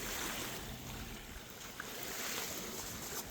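Steady broadband rush of wind and surf, continuous and fairly close, with no voices and only small swells in loudness.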